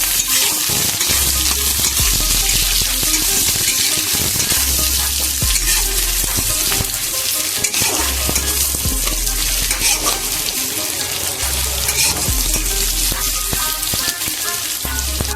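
Chopped onion fries in hot oil with cumin for a mutton and potato curry, giving a loud, continuous close sizzle broken by repeated stirring scrapes and low rhythmic thumps.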